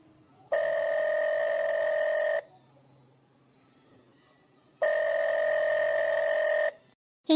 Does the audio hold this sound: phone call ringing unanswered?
yes